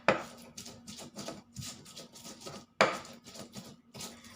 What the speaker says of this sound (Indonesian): Lalu kita akan ulek.